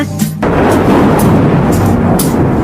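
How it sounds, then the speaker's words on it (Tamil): Thunder in a children's cartoon, a loud sustained rumbling roar that fills the whole clip after a brief sharper crack at the start. "இடி இடிக்குது"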